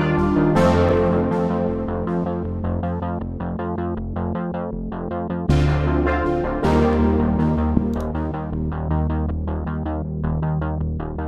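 An 80s-style synth beat plays loud and continuous, with a punchy drum pattern, a step-filtered synth bass pulsing on the downbeats and soft sustained synth chords layered on top.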